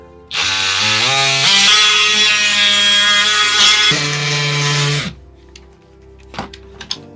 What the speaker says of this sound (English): oscillating tool to the rescue